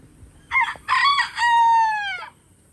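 A rooster crows in a homestead chicken coop, a loud nearby cock-a-doodle-doo of three bursts that ends in a long held note, with a faint hum of farm background and no talking.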